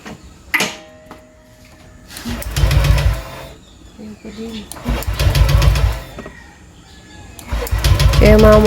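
A Honda Click 125i v3 scooter with a replaced spark plug is cranked three times, each a loud, rapid mechanical whir lasting about a second, separated by quieter pauses.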